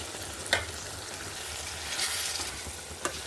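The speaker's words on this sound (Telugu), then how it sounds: "అడుగు పట్టకుండా వేయించుకున్నాము" Egg and drumstick masala with coconut fries in a pan, a soft steady sizzle with a few light scraping stirs, quiet and close.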